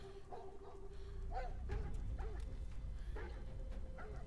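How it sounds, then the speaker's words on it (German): Dogs in the video game Beyond: Two Souls bark, yelp and whimper in short repeated bursts over a low rumbling background, fairly close but not loud. "Herr Chaos, die armen Hunde"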